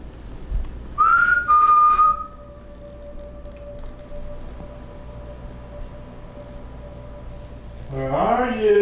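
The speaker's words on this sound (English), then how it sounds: "A pipe, or a whistle." A faint wavering whistle rises and holds briefly inside a reportedly haunted house, then a thin steady tone lingers before a second, bending whistle near the end, with some voices in the background.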